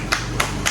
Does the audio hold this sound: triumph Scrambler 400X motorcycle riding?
no